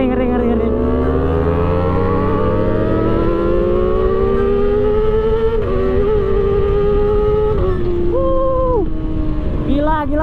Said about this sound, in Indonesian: Bacot banget guys knalpotnya.